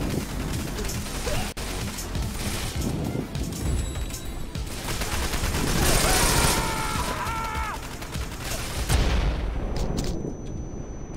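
Rapid submachine gun fire in the action game Wanted Dead, a continuous rattling clatter of shots mixed with mechanical clanks and impacts, loud and close throughout.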